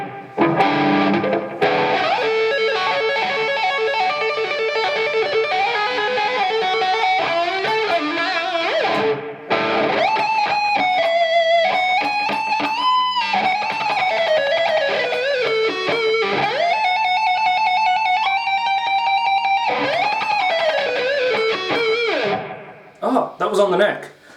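B.C. Rich Mockingbird electric guitar played solo on the neck pickup with clean-to-mildly driven tone, flowing melodic lines and bends over sustained chords, loud and close, with a brief pause midway.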